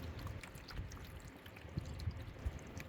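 Water is poured into the bottom of a vegetable seed tray, a faint low trickle and splash with a few soft knocks, heard quietly with no talking.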